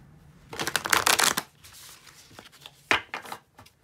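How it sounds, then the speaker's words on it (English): Tarot cards are shuffled in two quick bursts of riffling and flicking, the first longer and louder, then lighter taps and slides. "Shuffle one more time."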